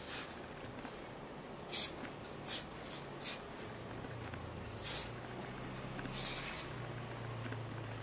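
Hairspray is sprayed onto heatless pin curls in several short hissing bursts of uneven length, close and fairly loud over a quiet background hum.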